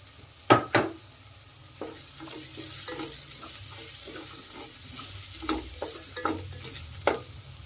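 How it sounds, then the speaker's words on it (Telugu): Curry leaves frying in hot oil with turmeric for Rayalaseema uggani bajji, a soft steady sizzle under sharp scraping stirs of a spoon against the pan, several strokes spread through, close by. "పసుపు వేసుకున్న తర్వాత కొద్దిగా కరివేపాకు వేద్దామండి ఇందులోనే."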